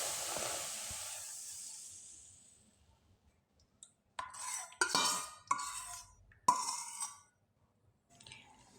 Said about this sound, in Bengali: এবার কাঁঠালের রসটা দিয়ে দিতে হবে।